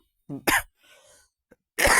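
A few sharp coughs in quick succession, close and fairly loud, separated by short quiet gaps.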